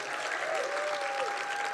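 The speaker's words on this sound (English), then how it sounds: "How about a round of applause for these guys?" An audience applauds performers at the close of an evening arts lecture event in Westport, Connecticut, a steady wash of many hands clapping at even loudness throughout, with a faint tonal whistle-like line running through it.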